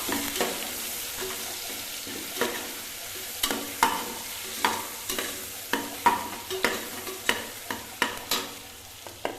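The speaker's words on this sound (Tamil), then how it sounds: "மூணு பச்சை மிளகா போட்டுக்கலாம்" Green chillies frying in a pan for a samai (millet) rice egg biryani, stirred with repeated sharp scrapes and knocks of a spoon over a steady close sizzle, with no talking.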